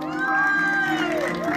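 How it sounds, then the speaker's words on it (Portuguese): Crowd at a 15th birthday party cheering and shouting loudly and continuously, with children's voices and whoops mixed in; applause is not distinct beneath the cheering. "Uma salva de palmas, pessoal."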